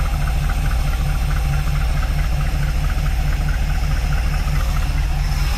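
A Mopar car engine with a freshly rebuilt carburetor idles low at about 500 rpm, a steady, loud, continuous rumble with a faint rhythmic lope throughout.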